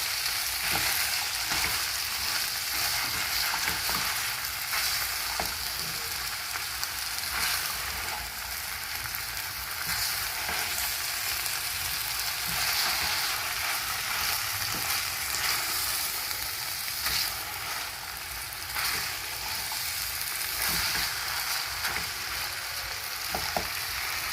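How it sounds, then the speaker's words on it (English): Black beans are being stirred together with tomatoes and capsicum in a hot pan, giving a steady, continuous sizzle with soft scraping from the stirring, close and even throughout, with no talking. "Mix everything well, just like I'm doing. The tomatoes, the capsicum, everything to mix up with the black"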